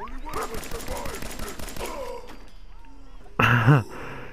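Automatic gunfire from a weapon in the video game Fallout 4: a rapid, sustained stream of shots for about two seconds, then a pause and a short loud burst of noise, with voice sounds and groans mixed in.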